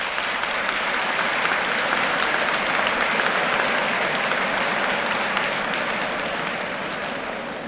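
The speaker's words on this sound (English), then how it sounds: "I was not overwhelmed with the applause." Sustained audience applause at the University of Oklahoma, a dense, steady wash of clapping from a large crowd that holds loud throughout before easing slightly at the end.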